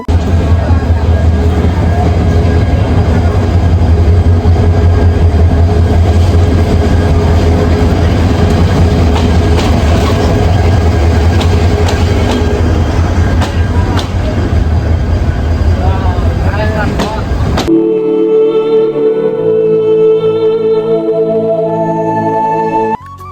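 Meghna Express passenger train running on rails near Sitakunda, a loud, steady low rumble and rattle of wheels heard from on board for about eighteen seconds, then cutting to quieter tonal sounds with no voices.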